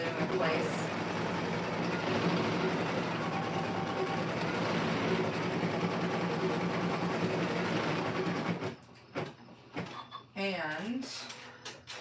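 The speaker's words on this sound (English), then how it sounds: "The machine has a basting stitch, and I'm gonna baste the blue in place." A sewing machine runs a continuous basting stitch through blue pile fabric for about eight seconds, loud and close, then stops, followed by a few handling clicks and rustles.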